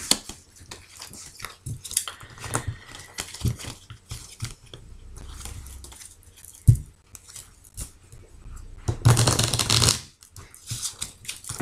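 Tarot cards are handled and shuffled close up, in soft irregular bursts of riffling, tapping and sliding, with a longer, louder flurry near the end and no talking.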